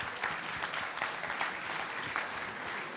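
Steady applause from an audience at a company's 80th anniversary event, dense clapping that holds at an even level throughout without voices.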